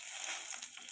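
Bay leaves dropped into hot oil in a home kitchen pan, giving a steady bright hiss and crackle that runs for about a second, close and fairly quiet.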